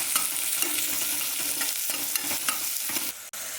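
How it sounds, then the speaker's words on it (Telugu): Shahjeera and whole spices sizzle in hot oil in a pressure cooker for chicken pulao, giving a steady, close crackling fry with faint stirring scrapes throughout. "ఆయిల్ కాగింది, షాజీరా వేసుకోండి"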